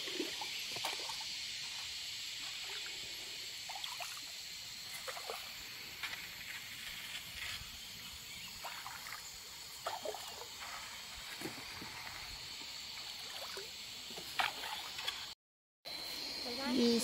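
River water flowing and lapping around a bamboo raft in Chiang Mai, Thailand: a steady soft trickling wash with occasional small splashes, under intermittent talking voices throughout.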